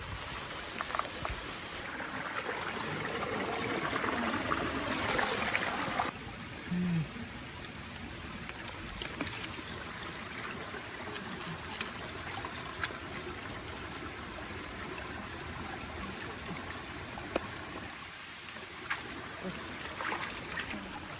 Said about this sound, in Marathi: इथे एवढी मोठी नदी आहे ना, रस्ता पार करायला खूप खोल पाणी आहे